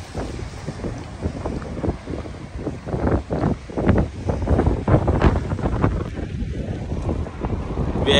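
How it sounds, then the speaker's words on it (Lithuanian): Strong headwind buffets the microphone while riding a cheap bicycle outdoors, a loud continuous rumble with gusting surges throughout. "Vėjas tai labai nepadeda."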